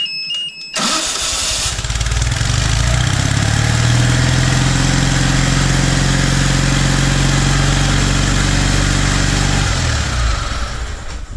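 An engine fires up on the key after a carburetor top gasket was fitted, then runs steadily and loudly close by for about ten seconds, a continuous mid-pitched idle with a slight rise partway through before cutting off near the end.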